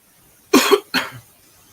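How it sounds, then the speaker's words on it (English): A man coughing up dust after working in it all day: two harsh, close coughs in quick succession, the first slightly longer, then quiet. "Just coughing all that shit up."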